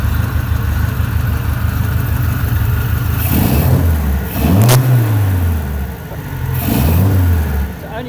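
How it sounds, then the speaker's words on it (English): A Volvo P1800 engine runs just after a timing adjustment, idling steadily then revving in a couple of rising, falling blips, close and loud with no voices. "There she goes, Volvo P1800, and just adjusted the timing on her."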